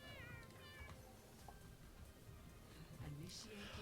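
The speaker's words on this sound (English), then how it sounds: "I'm going to strangle that cat." A cat meows faintly a few times, drawn-out and wavering, beneath people talking during an online gaming match.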